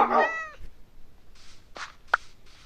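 A single clear cat meow at the start from a Minecraft game, followed by a few soft scattered noises and clicks.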